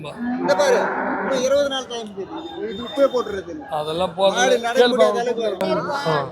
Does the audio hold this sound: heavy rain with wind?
no